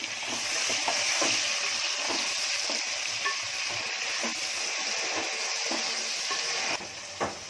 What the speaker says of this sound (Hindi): अभी 2 मिनट मैंने इसको भून ली झींगे को